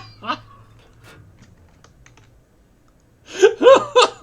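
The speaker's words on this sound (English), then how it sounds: "And then I started typing in Greek." Sparse, faint clicks of typing on a computer keyboard, followed near the end by a loud burst of laughter and voices.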